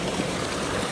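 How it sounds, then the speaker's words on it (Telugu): Steady, close rush of water pouring from a decorative pump fountain, a continuous even splashing wash with no pauses. "నీళ్ళు సౌండ్తో భలే థెరప్యూటిక్ ఉంది."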